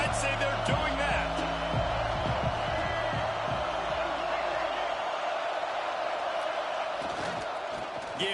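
A large football stadium crowd at a South Carolina vs Michigan State game roars in a constant, dense wash of noise, with a commentator talking over it.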